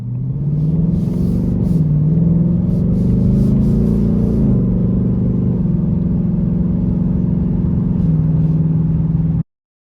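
A 2020 Ford Mustang GT Premium on the road: a loud, steady engine rumble with slight swells as the revs change, heard close for about nine seconds before it cuts off abruptly.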